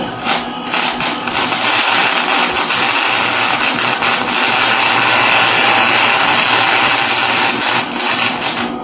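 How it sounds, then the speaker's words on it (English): Steady, loud crackling hiss of welding on a pipe joint, running continuously and close up without pauses, with no talking over it. "A weld right up here."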